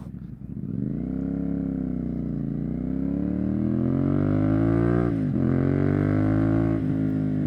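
A CFMOTO 450SS parallel-twin motorcycle fitted with a Yoshimura slip-on exhaust pulls away and accelerates, its loud buzzing exhaust note rising steadily through the gears with brief dips at shifts.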